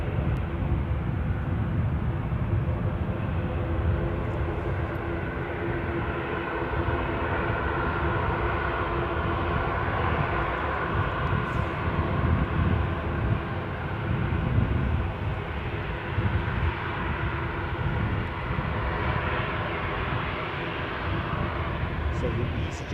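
EasyJet Airbus A320 departing Edinburgh for Basel, a loud, sustained engine roar rumbling steadily throughout with faint intermittent voices.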